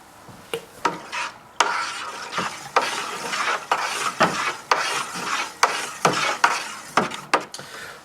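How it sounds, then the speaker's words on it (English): Beer kit wort is stirred in a fermenter bucket, giving rhythmic scraping and sloshing strokes about one per second, close and fairly loud, with no talk. "So now I'm just going to put it in and give that a good stir."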